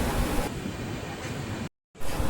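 Passenger train on the Visakhapatnam to Araku line near Simhachalam station, a steady loud rumble and wheel roar from inside the coach, cut by a brief silent gap before resuming.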